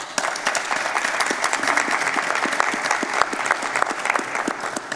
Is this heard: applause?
yes